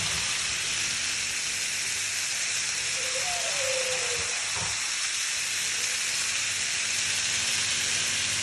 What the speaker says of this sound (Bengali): এবার এতে একটু ঝোলের পানি দিয়ে দেবো।